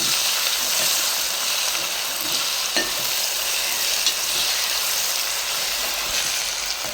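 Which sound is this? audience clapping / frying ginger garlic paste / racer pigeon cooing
frying ginger garlic paste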